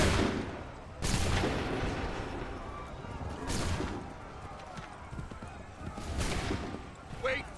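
Heavy gunfire volleys erupt in Assassin's Creed 3 Remastered, three loud booming bursts spaced a few seconds apart with lingering rumble between them.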